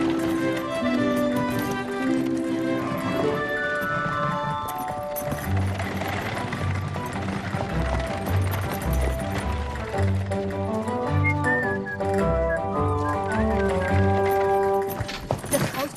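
Hooves clip-clop in a steady trotting rhythm as a horse pulls a cart, the hoofbeats close and distinct, mixed with orchestral music throughout.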